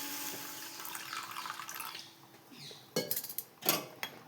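Water is poured into a karahi holding about 100 grams of sugar: a soft rushing pour for roughly two seconds, then a few close metallic clatters of the pan and utensil, all fairly quiet.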